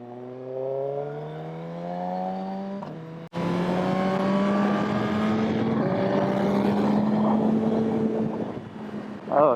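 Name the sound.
Suzuki GSX-R1000R motorcycle engine downshifting into first gear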